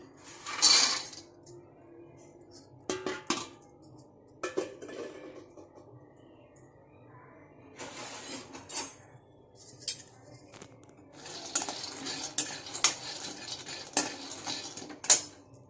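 Peanuts are stirred in a pan as they roast, heard as scattered clinks and scrapes of a utensil against metal in uneven bursts, close but fairly faint, with no talking.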